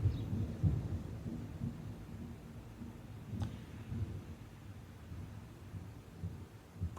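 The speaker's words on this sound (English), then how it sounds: "That was thunder" Low rumble of thunder from a storm close by, rolling and grumbling softly at a distance with a few swells, no rain audible.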